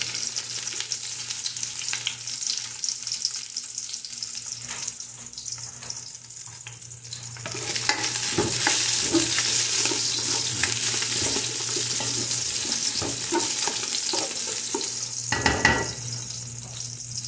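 Garlic hits hot oil in a pan, and a steady sizzle swells louder and denser as it is stir-fried, with scraping stirring strokes and a sharp clatter near the end.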